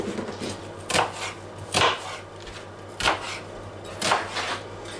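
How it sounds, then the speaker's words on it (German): A knife roughly chops onions on a cutting board while a duck dish with sauce is being made at home: four distinct, fairly loud chops spaced about a second apart, with a faint steady hum underneath and no talking. "Und dann schneide ich jetzt einfach mal auch grob die Zwiebeln."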